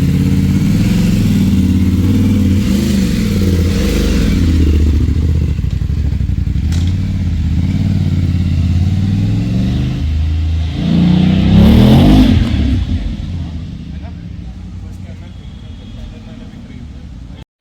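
A BMW GS motorcycle on a test ride runs loudly up close, with a steady throbbing engine that swells into a brief rev and then settles back, fading as it moves off.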